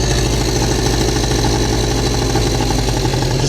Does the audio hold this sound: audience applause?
no